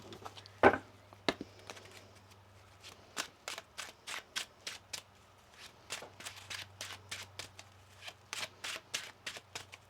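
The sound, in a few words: shuffling tarot cards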